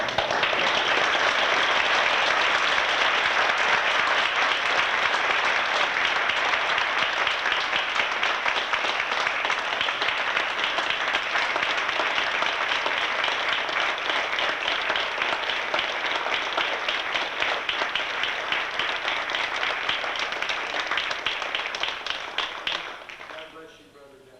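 A church congregation at an Assembly of God reunion applauds, a dense, even wash of many hands that holds for over twenty seconds before cutting off sharply, with voices faintly beneath.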